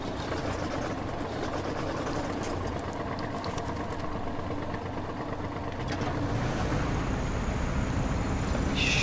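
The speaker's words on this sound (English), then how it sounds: "Start engine." Kirovets truck engine in SnowRunner, starting and then idling with a steady low diesel rumble that stays loud and unbroken throughout, with no talk.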